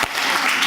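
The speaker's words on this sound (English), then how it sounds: "Very controlled and EU kind of supported applause to everyone." A brief burst of applause at a conference, many hands clapping at once, loud and close.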